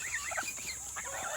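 Geese honk in short, rapid, nasal bursts at close range on a farm, several calls overlapping in quick succession.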